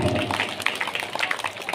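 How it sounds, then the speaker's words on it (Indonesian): Audience at a school quiz competition applauding the four competing teams, a short burst of scattered hand claps at moderate distance. "Kita beri tepuk tangan aplaus kepada keempat regu"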